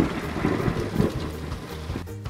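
A rainy, windy day brings steady heavy rain with low rumbling thunder rolling beneath it, continuous and fairly loud throughout, with no one speaking.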